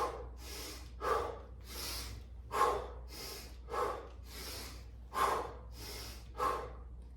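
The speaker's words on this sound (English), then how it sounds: "I'm breathing in through my nose and out through my mouth" A person doing wall ball reps breathes audibly in through the nose and out through the mouth, with five or six sharp rhythmic exhale bursts spaced about a second apart, close and fairly quiet, no talking.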